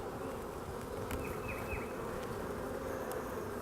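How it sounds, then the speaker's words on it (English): Honeybees hum in a dense, continuous buzz from an opened hive, steady and close, with a few individual bees whining past nearby. "the bees rub against that, and then they spread the chemical throughout the hive"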